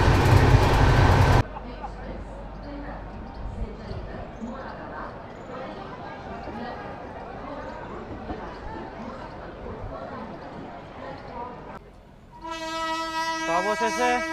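A passenger train running late on the way to Haridwar rumbles steadily from inside a carriage under murmured chatter, after a brief loud burst at the start, ending with a tonal electronic chime.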